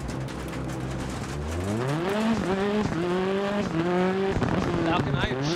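Racing video game car spinning out, engine tones sweeping up and down with tire squeal across the skid, loud and steady, with a voice talking faintly underneath.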